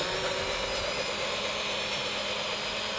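A power drill bores through fiberglass on a 1986 catamaran during a refit, giving a steady, loud, continuous whine with no breaks.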